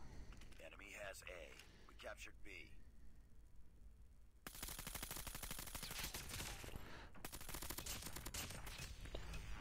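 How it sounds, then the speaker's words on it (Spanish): In a Call of Duty-style shooter game, a distant gunshot sounds amid bursts of gunfire; a voice talks in the first half before dense, rapid shots take over. "Ahí salió un tiro lejano"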